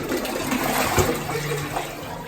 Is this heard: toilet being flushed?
yes